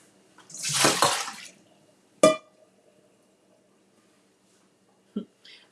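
Pasta cooking water poured from a pot into a kitchen sink makes a brief rushing splash lasting about a second, followed by a sharp clink and then near silence.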